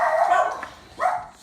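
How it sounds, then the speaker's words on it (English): A pet dog barks indoors in a kitchen, two short sharp barks separated by a brief pause, fairly close and clear, with no talking. "before my dog started barking"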